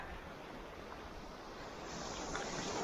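Waves wash onto a beach at Diu, a steady broadband rush of surf that swells slightly louder toward the end, heard alone without voices.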